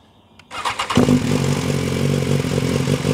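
A BMW S1000R motorcycle with a modified exhaust cranks and catches after a short starter whir, then settles into a loud, steady, slightly lumpy idle close by.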